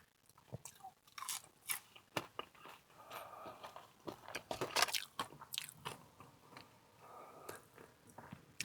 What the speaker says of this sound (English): let's try a fry first.